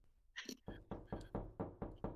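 A knock sound effect plays during a tabletop role-playing game, a brief scrape followed by six evenly spaced, hollow knocks on wood, steady and fairly close.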